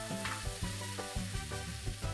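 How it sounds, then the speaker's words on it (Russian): Oil-coated potato fries are tipped onto a baking tray in a hot oven, giving a bright, crackling sizzle with several rhythmic scraping and clattering strikes, close and fairly quiet, with no talking. "да высыпайте все на противень."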